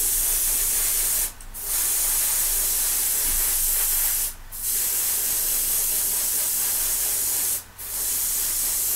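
An airbrush sprays Tamiya metallic paint in steady, loud hissing bursts, each lasting a few seconds. Two brief pauses break the spray before it resumes.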